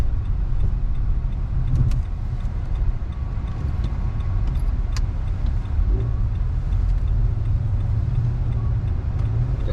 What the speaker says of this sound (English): all those cars are stuck there for hours